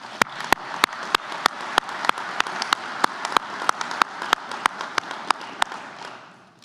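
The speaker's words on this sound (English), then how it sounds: "Please join me in a round of applause for those of you who work to make this happen" A crowd at a university faculty and staff convocation claps steadily in a warm, continuous wash of applause, with sharper individual claps standing out, fading away at the end.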